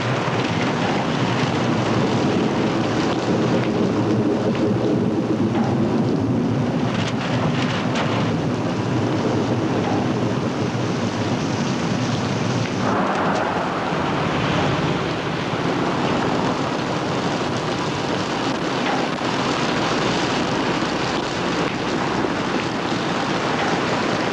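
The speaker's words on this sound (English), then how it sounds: "Kind of nice driving in this rain." Steady heavy rain drums on a car during a drive, a dense continuous wash with low rumble, loud and unbroken throughout with no talk.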